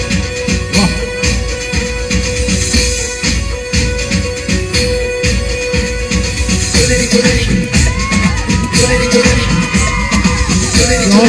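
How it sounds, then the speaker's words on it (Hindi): Audience clapping and cheering at a brother-and-sister dance performance, a loud, dense crowd roar with whoops and yells running the whole time over pounding music. "तालियां"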